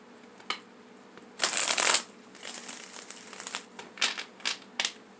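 Tarot cards being shuffled by hand, a quick riffling burst followed by a run of shorter crisp flutters and taps, close and clear with no talking.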